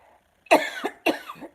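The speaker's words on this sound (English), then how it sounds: "That is a residual smoke cough" Two harsh coughs close by, one right after the other, each with a rough rasping tail.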